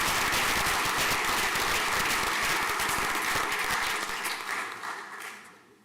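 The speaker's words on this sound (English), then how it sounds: "If we have a round of applause, please" A school prizegiving audience applauds with dense, steady clapping that holds strong for several seconds, then tapers off toward the end, with no voices over it.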